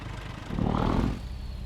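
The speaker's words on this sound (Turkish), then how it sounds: "Baksana ne tatlı motor sesi." A Scania R380 8x2 truck engine in the Euro Truck Simulator 2 video game gives a brief close mechanical rumble that swells for about half a second, then settles back to a steady low drone.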